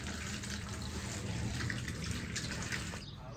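Water runs steadily in a village kitchen while food is washed, a continuous near splashing rush with faint clatter, easing slightly at the end.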